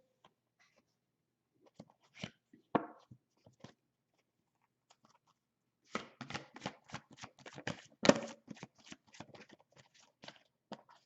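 Tarot guidance cards being shuffled: a few soft riffles early on, then a dense, close run of quick papery flicks and slaps from about six seconds, with no talking.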